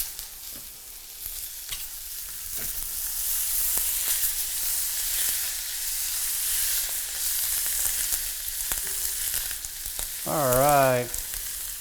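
Grapeseed oil and butter sizzling steadily in a hot pan, a dense close hiss that runs throughout with faint clinks, and a brief voice near the end.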